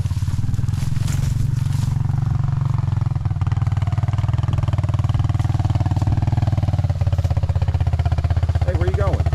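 Four-wheeler ATV engine droning steadily while driving through six-foot-tall grass, a loud, close, continuous rumbling chug with a person speaking over it.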